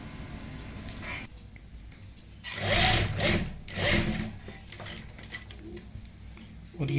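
Sewing machine stitching a jacket lining with a half-inch seam for a Punjabi kurti jacket, its motor whirring in short loud bursts over steady low room hum.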